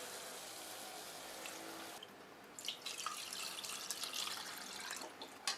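Sour buttermilk poured from a container into a cooking pot for Tamil more kulambu, a steady soft trickling and dripping stream that thickens after a brief pause, continuing alone without talk.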